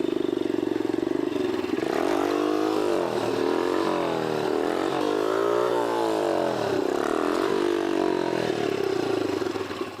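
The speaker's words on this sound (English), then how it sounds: "Here, do a wheelie." A motorcycle revs and accelerates during a wheelie, the engine note rising and falling in waves as the throttle is worked, loud and close throughout with no talking.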